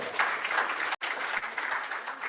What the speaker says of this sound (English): Let's clap for Gloria once again.